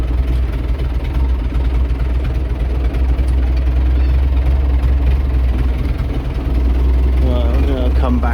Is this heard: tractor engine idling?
yes